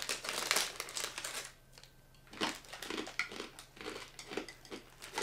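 Crisp crunching of buckwheat sourdough bread chips being chewed, close and rhythmic, in repeated bites with short quieter gaps and no talking.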